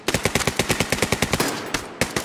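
Rapid pistol gunfire in the World War II shooter Hell Let Loose, about twenty sharp, loud shots in a steady, fast rhythm, with a brief pause before a final couple of shots.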